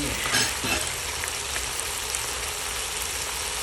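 Sayote being stir-fried with oyster sauce, ground pepper and chicken powder, a steady broadband sizzle from the pan with a couple of brief stirring scrapes near the start, close and even throughout with no talk.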